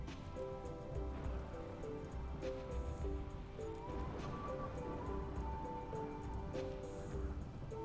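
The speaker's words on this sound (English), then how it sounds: "Is it raining already?" Rain falls steadily in the video game Rimworld, a soft, even patter heard faintly and alone under a low, sustained tonal background.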